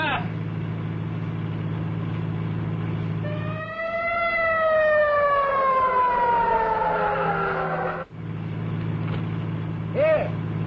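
An ambulance siren wails loud and close. A steady tone gives way to a long falling sweep, then the steady tone returns and a short rising whoop follows near the end.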